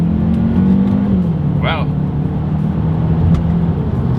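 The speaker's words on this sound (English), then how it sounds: "let's go ahead and do that paddle shifter test, and let's see how quickly these things will react for us here" A Hyundai Elantra N Line accelerates hard during a paddle-shifter test, its engine note rising and then dropping as a shift is taken, heard from inside the cabin under a brief exclamation from a person.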